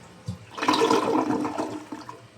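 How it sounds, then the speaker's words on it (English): An American Standard toilet in a hotel bathroom flushes with a click of the handle and then a close, rushing gush of water that swirls and drains steadily. "Give it all a flush."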